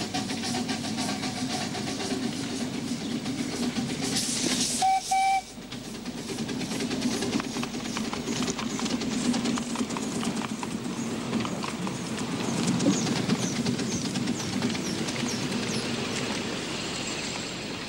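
A miniature narrow-gauge railway train, 1989, running steadily on its track with a rhythmic clatter of wheels over rail joints, a brief whistle-like tone midway, and continuous mechanical rumble throughout.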